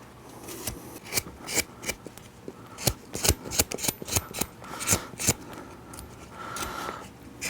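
A knife carving into a block of wood, cutting in and popping out chips to leave a ledge: a run of sharp, close scraping cuts and snaps in an uneven rhythm, with quiet pauses between strokes and no talk.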